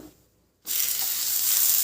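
Oil on a hot griddle sizzles loudly as a Khandeshi bottle gourd thalipeeth starts frying, a sudden bright hiss bursting in after a quiet moment and holding steady and close.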